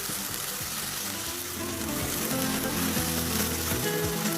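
Raw onions with ginger-garlic paste fry in a pan for chana dal, giving a dense, constant, fairly loud crackling sizzle that carries on without a break.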